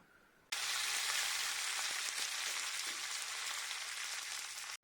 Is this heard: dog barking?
no